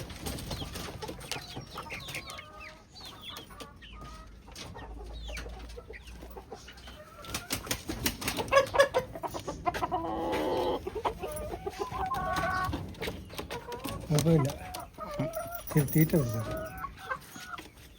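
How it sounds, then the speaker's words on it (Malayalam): Chickens clucking intermittently nearby, with scattered squawks and background shuffling noise; activity picks up in the second half. "ഇതിനകത്ത് കോഴിയാണോ?"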